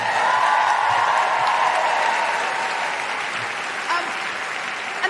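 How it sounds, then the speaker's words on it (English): Steady, dense applause from a live audience at a comedy podcast show recorded in Melbourne, Australia, filling the whole stretch at full strength before easing off slightly toward the end. "Big round of applause for Anita!"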